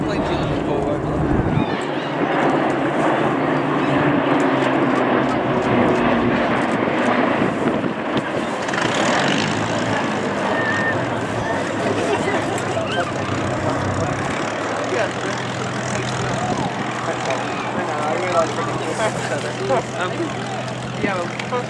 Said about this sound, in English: the planes you're looking for over there.